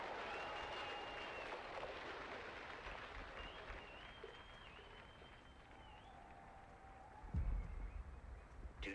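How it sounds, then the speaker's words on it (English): A video game arena crowd cheers and applauds the return of a legendary gladiator, a steady roar of claps and cheering across the whole stretch that swells louder toward the end, with no voices speaking over it. "I hear the crowd well enough."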